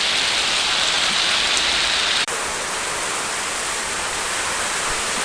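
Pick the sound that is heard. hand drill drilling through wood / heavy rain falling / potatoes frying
heavy rain falling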